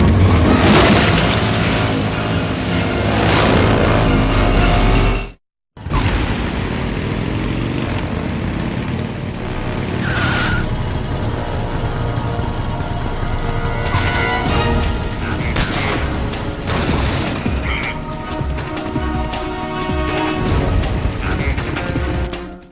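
A loud explosion and crashing bridge collapse in the stealth action game Metal Gear Solid 3: Snake Eater, the blast taking down the Shagohod's frame, with sustained rumbling debris and mechanical clatter, a brief silent gap, then continued heavy din.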